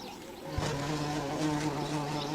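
Wasps hum around their nest in a steady, droning buzz with a clear tonal whine, close and continuous with no voices over it.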